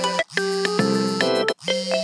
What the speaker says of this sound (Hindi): यहाँ से हम अपनी कोई भी पसंदीदा रिंगटोन सेट कर सकते हैं।